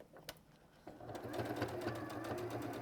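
Sewing machine stitching fabric at a Christmas makes event, a faint steady mechanical whir that builds after a quiet start and runs continuously.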